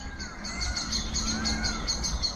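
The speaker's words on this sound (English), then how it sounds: "Birds going crazy." Several birds chirp and call in a hot, open outdoor spot, with faint peacock-like cries; the calls repeat in quick, busy bursts over steady background noise, fairly distant and moderately loud.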